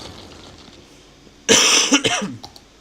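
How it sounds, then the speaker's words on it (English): After a quiet moment, one harsh, close cough bursts out, followed by a rougher throaty hack. "This cough is awful. Absolutely terrible."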